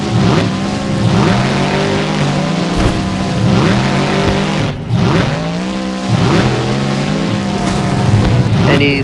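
The monster truck Grim roars through a time attack run in a Jacksonville arena, its loud engine revving hard in repeated surging bursts with brief dips between throttle pulls.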